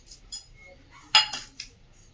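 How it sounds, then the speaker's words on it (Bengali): A knife cuts cucumber with a few sharp, close taps and clinks spread across a quiet background, the strongest stroke about halfway through. "আর এদিকে শসা কাটছি।"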